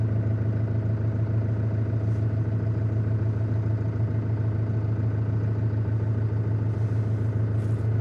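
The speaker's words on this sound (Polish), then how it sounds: "Teraz rozpocznijmy test hałasu w ciągniku Aupax" An Aupax 5130 tractor engine (130 hp) runs steadily during a noise test, a loud, constant low drone with mechanical clatter and no pauses, close to the listener.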